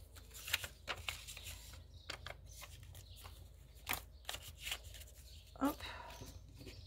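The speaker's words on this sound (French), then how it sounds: "Et il faut maintenant que je vienne les ranger" Paper banknotes are handled and slid into a small envelope, a series of faint rustles, crinkles and sharp paper snaps spaced irregularly, heard with quiet room sounds.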